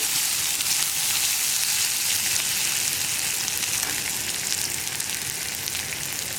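Two sprigs of curry leaves crackle in hot oil in a pan for a Kerala kumbalanga erissery, a steady dense sizzle holding at an even level throughout with no talk.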